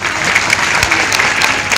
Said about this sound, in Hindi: तो बजाओ ताली जोर से।